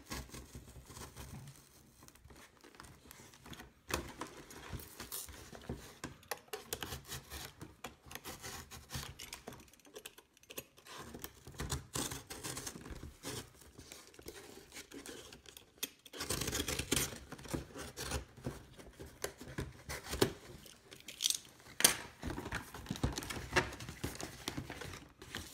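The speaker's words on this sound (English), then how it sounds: "I'm gonna use this X-Acto knife to cut open" An X-Acto knife slitting open the cardboard of a Charizard ex Red & Blue trading card collection box, giving faint, close, irregular scratches and crinkles that come in short bursts, with no talk.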